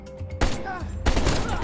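Dense automatic fire from Call of Duty Black Ops Cold War on PS5, erupting in loud sustained bursts that cut in abruptly, with brief game noise between them.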